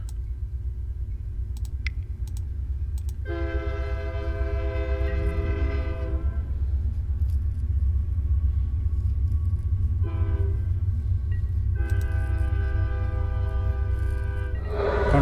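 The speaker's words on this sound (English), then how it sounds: "Of course there's a train." A train passes close by, its horn sounding in long sustained blasts twice, over a steady rumble of rolling wheels and clicking rail joints that continues throughout.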